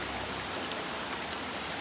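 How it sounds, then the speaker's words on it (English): Steady rain falls on a backpacking trail as a constant, even hiss with no breaks, moderately loud and with no voices. "It's rained nonstop since 7 o'clock last night."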